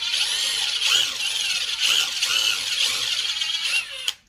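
A power tool whirs loudly and steadily up close while backing long bolts out of the shift plate on an International Farmall Utility tractor, in several surging pulses before cutting off at the end, with no talk.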